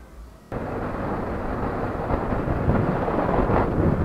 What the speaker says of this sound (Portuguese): Com direito à chuva e tudo